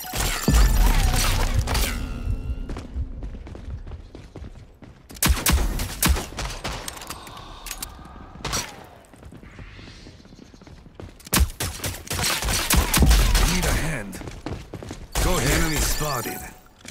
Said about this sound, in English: Enemies fire.